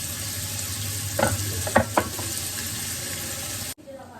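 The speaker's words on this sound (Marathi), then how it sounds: "आणि आता हे आपल्याला व्यवस्थित परतवून घ्यायचं" Finely chopped onion sautéing in a pan, a steady sizzle with a few sharp knocks and scrapes of a spatula stirring midway, then cutting off abruptly near the end.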